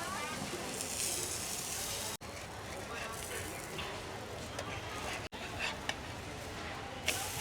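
Dhapate flatbread frying in oil on a griddle at a street stall, a steady broad sizzle running throughout with brief cuts, busy surroundings and voices faint underneath.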